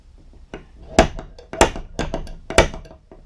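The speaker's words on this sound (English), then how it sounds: "I'm going to use my spring-loaded awl here." Spring-loaded awl punching marks into metal in a workshop: several sharp, close metallic snaps spaced roughly half a second apart, the strongest three standing out over faint background handling noise.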